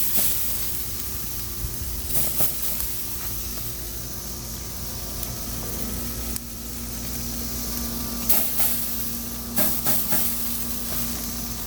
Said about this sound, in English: what I'm doing here is searing them